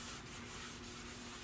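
Wet sanding of a car panel to dull the surface before spray painting: steady, close abrasive rubbing with a rhythmic back-and-forth stroke, alone with no talk.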